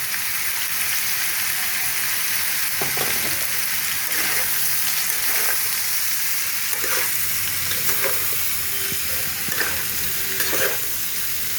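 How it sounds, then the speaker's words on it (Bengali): Boiled young jackfruit is stir-fried with turmeric powder in a pan, giving a loud, continuous sizzle broken by regular spatula scrapes and stirring strokes. "একটু হলুদ গুঁড়ো দিয়ে আমি নেড়ে চেড়ে একটু ভেজে নেব"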